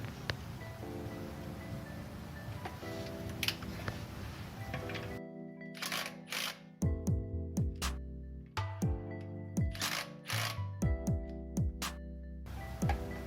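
Pneumatic impact gun on a 2021 Toyota RAV4 during a chrome delete, several short rattling bursts that rise and fall in pitch, spaced over a few seconds, close and loud over a humming background.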